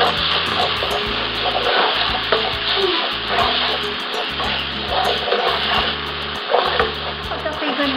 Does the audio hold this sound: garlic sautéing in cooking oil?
yes